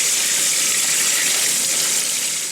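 Steady tap water runs into a kitchen sink as a batch of stinging nettles is rinsed, a constant close broadband gush that stays loud throughout without breaks.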